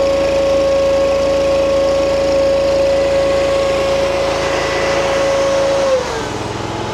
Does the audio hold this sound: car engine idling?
yes